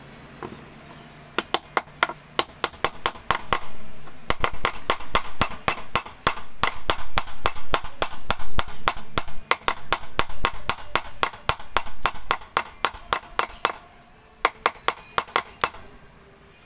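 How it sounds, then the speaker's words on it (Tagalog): Rapid, steady hammer blows ringing on metal during a washing machine repair, dozens of sharp metallic strikes in a fast rhythm, loud and close. "Then paluin natin ang martilyo sa taas."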